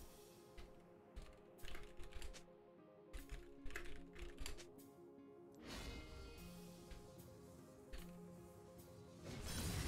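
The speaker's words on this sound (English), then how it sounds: "I gotta stop typing." Rapid clicking from a computer keyboard during a League of Legends match, with dense game music and effects layered over the keystrokes throughout.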